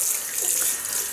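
Water from a running tap splashing steadily as a razor is rinsed during a shave, a brief constant bright hiss at close range with no talking.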